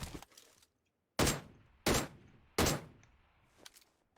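Gunfire in the PUBG Mobile video game comes as several loud, sharp bursts separated by short pauses, each shot or volley cracking up suddenly and trailing off, with no voices.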